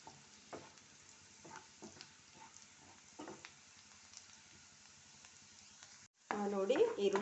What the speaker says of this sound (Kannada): ನೋಡಿ ಈರುಳ್ಳಿ ಚೆನ್ನಾಗಿ ಫ್ರೈ ಆಗಿದೆ